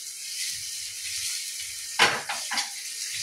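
Butter sizzles in a pan over a high flame, a soft continuous hiss with a sudden louder burst of spitting and a couple of smaller flare-ups near the end.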